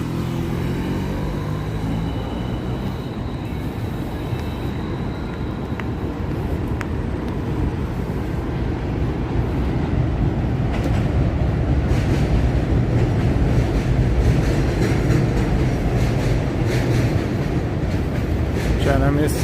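A New York City subway train rumbles steadily and loudly for the whole stretch, with a deep continuous roar and faint rhythmic clatter of wheels on track heard close from inside or beside the car.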